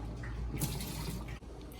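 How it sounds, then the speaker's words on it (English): Water from a canning pot that has boiled for 45 minutes is scooped out, giving soft, steady sloshing and trickling close by with no talk. "I'm just scooping the water out"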